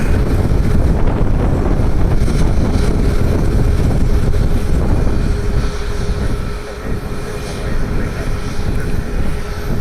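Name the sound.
Cirrus Vision jet aircraft engine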